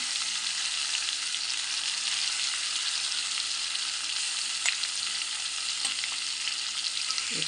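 Bitter gourd (kakarakaya) pieces fry steadily in a pan with leftover spice paste, a dense, continuous sizzle with occasional soft clicks of stirring, close and alone without talk.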